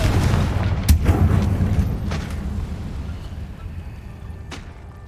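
A Confringo spell explosion in Hogwarts Legacy, one loud rumbling blast with a sharp crack near the start, then a long decaying roar and a few faint later pops.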